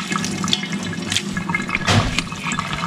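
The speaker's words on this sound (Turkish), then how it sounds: "Sıkıyorum ben de iyice. Oo, bayağı bir su çıkıyor." Water drips and splashes as a bundle of freshly gathered wild greens is squeezed hard by hand outdoors in a village, a short burst of liquid trickling close by.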